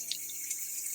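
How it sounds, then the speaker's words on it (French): Water runs from a tap turned back on to refill a toilet cistern, a steady bright hiss of flowing water with a low gurgle near the end, close and brief. "bien réallumer le robinet"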